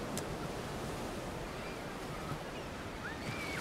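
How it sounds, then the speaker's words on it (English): Large ocean breakers crashing toward an African shore where a surfer struggles: a continuous loud roar of surf and wash filling the whole stretch, with wind rumble and no voices. "She's now stuck in the breakers as a series of waves pummel her."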